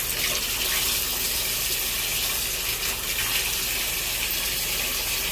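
Hot water gushing steadily from a tap, filling a basin to clean gecko tank items; a loud, continuous broadband rush that holds level throughout with no talking.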